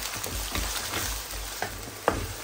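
Sliced onions with turmeric sizzle and crackle in a hot pan, a steady close frying hiss with a few sharp pops and occasional stirring scrapes.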